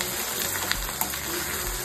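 Oil tempering for pulao sizzles steadily in a pan, a close, continuous frying hiss with a couple of small sharp pops partway through.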